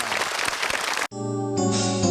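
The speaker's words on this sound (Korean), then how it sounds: "박수 한번 보내주십시오" An audience of Marine Corps Blue Dragon unit veterans and active-duty troops applauds at a televised military event, dense clapping that cuts off abruptly halfway through, replaced by a sustained musical tone.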